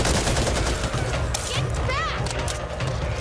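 Dense video-game gunfire in Back 4 Blood, a steady fusillade of rapid shots with thumps under it, with brief voice-like sweeps partway through.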